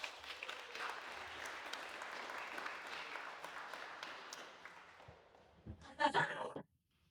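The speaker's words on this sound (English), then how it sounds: "We'll give a round of applause for Chris." Audience applause at a talk on manifestation, a dense steady clapping that lasts about five seconds and then fades, followed by a short burst of a voice near the end.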